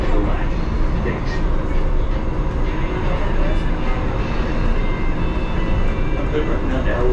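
A Las Vegas Monorail train pulls into a station on the Strip with a loud, steady rumble and whine of wheels and motors, while an announcement voice talks over it.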